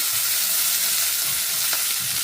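Long beans frying and being stirred in a little oil for a curry: a continuous close sizzle with soft scraping stirs underneath and one brief clink, loud and unbroken, no talking.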